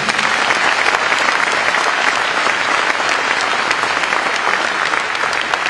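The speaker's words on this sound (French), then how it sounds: "Je vous demande d'applaudir tous ces bénévoles." A town-hall audience at a mayor's New Year's address in Cavalaire applauds volunteers, dense loud clapping sustained evenly for several seconds with no voices.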